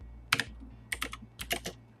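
A computer keyboard being typed on in quick, close clusters of clicky keystrokes with short pauses between the bursts, over a low background hum.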